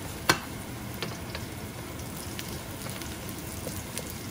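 Quiet sizzling of crab sautéing with garlic in a pan for ginataang alimango, a soft steady fry with a sharp clack near the start and a few light stirring taps.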